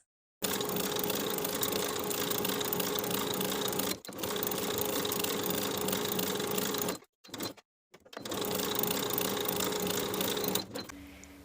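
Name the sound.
sewing machine stitching bodice armholes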